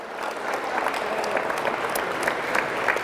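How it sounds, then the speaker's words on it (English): A school audience at Milford High School claps for a volunteer walking up, a dense burst of applause with some crowd noise mixed in, steady and fairly loud throughout. "Big round of applause."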